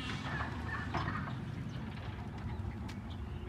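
Poultry call on a farm after a heavy hailstorm, with repeated gobbling and clucking calls at moderate distance over a constant outdoor background.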